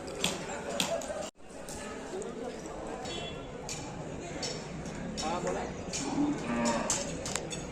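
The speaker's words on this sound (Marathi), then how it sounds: "दादा याचं नाव काय याचं नाव काय बैलाचं पवन पवन" A bull lets out a long low moo amid a noisy outdoor crowd at a bull event ground, with people talking all around.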